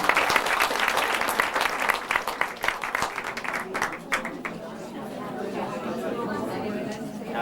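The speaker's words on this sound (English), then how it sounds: "Big round of applause there from Marie McCall." Audience applause at a 1998 gathering remembering Bryan McMahon, a dense wash of clapping that fades gradually into crowd chatter and murmuring.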